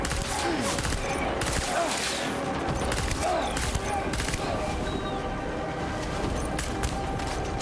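Rapid bursts of rubber-bullet gunfire in the video game Death Stranding, a dense fusillade of cracking shots rattling steadily throughout at moderate level over background noise.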